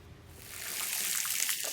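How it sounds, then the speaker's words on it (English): Fresh water splashes and trickles over plates being rinsed outdoors after a marine descaler test, a steady close wash of running liquid that builds slightly louder toward the end. "So we've taken the plates outside and we're just flushing them with fresh water."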